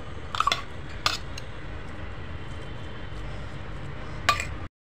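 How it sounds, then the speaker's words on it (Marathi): Mashed corn with some whole kernels is scraped into a bowl, giving a few distinct clinks of a spoon against the dish over a soft background hiss, with no talking. "मी हे कॉर्न एका बाउलमध्ये घालत आहे।"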